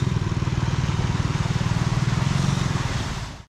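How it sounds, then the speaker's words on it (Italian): A motor scooter passes close by through a flooded street in a Vietnamese village, its small engine putting out a steady, pulsing rattle that cuts off abruptly at the end. "Ma c'è chi passa anche col motorino."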